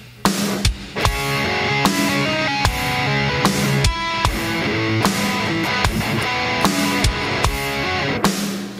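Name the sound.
drum loop used as a metronome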